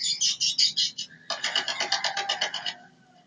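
A bird gives a series of sharp, high chirping calls, a quick burst of several notes, then a longer run of rapid repeated notes, fairly close and clear.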